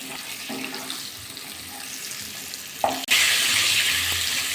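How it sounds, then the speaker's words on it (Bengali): Unsalted potatoes go into a hot kadai for a Bengali-style chicken dish. A quiet stretch suddenly gives way to a loud, close burst of hissing sizzle that continues to the end. "একটু ভাজা করে একটু লাল লাল করে আলুগুলো"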